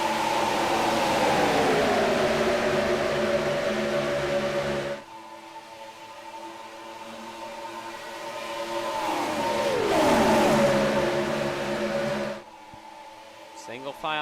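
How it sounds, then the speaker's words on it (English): A Gen 4 NASCAR stock car engine in the iRacing game, racing at Talladega. It holds a loud sustained drone, cuts out abruptly, then returns and climbs in pitch before dropping off again. "Hopefully this engine noise fixes itself"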